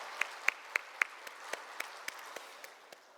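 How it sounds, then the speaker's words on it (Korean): A sparse scattering of hand claps from a small church congregation, a few sharp claps standing out before the rest thin into scattered, fading applause. "서로 감사의 박수하도록 하겠습니다"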